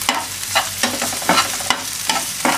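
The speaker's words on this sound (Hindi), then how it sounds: "तेल गरम हो रहा है तब तक हम उसमें 1 कटा हुआ प्याज डालेंगे। प्याज को हमें भूनना है" Chopped onion frying in hot oil for ragda pattice, a busy close sizzle broken by regular scraping strokes of a spatula stirring through the pan, with no one speaking.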